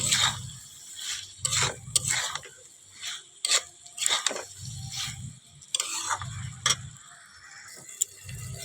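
Pumpkin, potato and soybean chunks are stir-fried for a spiced vegetable curry, with repeated scraping spatula strokes in rhythmic bursts over a soft sizzle, close and moderately loud, with no talking.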